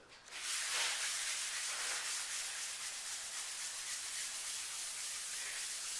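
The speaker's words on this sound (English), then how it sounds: "just do a very light, quick touch with the sandpaper along this edge to get it smooth" Steady, rasping sandpaper strokes rubbing across an electric guitar body's water-based finish, continuous and close, with no talking.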